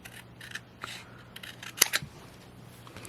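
Scissors snipping a small strip off an arched window pane insert: a few soft cuts, then a sharp pair of crisp snips close by, in a quiet room.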